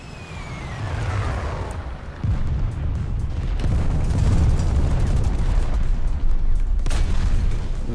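Tank cannon fire in the War Thunder game, a T-90M engaging an enemy vehicle: heavy booming blasts over a constant loud rumble of engine and battle noise, with a sharp report near two seconds and another near seven.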